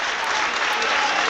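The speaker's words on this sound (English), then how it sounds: "And a ripple of applause" A ripple of applause from a football stadium crowd at an FA Cup extra-time match between Blackpool and Nottingham Forest, dense and steady, heard alone.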